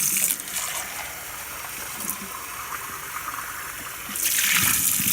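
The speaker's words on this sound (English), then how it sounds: "Rinse out your cup and put it in the sink." Tap water runs steadily into a sink while a cup is rinsed, a soft continuous hiss and splash that swells louder at the end.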